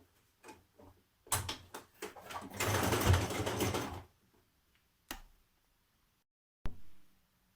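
A sewing machine stitches facings around a dress neckline, short quiet bursts of rapid mechanical ticking, then a longer steady run, and a few isolated clicks, fairly close and faint.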